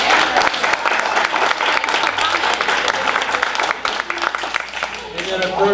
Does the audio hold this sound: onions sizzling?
no